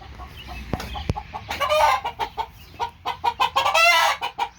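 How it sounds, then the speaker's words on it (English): A hen in a backyard chicken coop clucks close by, starting with a couple of sharp clicks and then breaking into loud, rapid, rhythmic clucking and squawks with brief pauses. "Oh, that's my hen. I thought that was my rooster"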